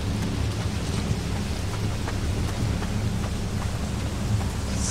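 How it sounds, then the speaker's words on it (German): A heavy thunderstorm in the horror game Pineview Drive pours down as a dense, continuous roar of rain with low rumbling, steady and loud throughout with no voices. "Schweres Gewitter."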